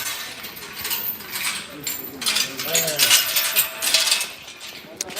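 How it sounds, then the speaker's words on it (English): Outdoor café staff on a Rome shopping street locking up and carrying in chairs, giving irregular metallic clinks, clatters and scrapes at moderate distance amid street ambience and faint voices. "That noise is cafe locking up their chairs and bringing them in."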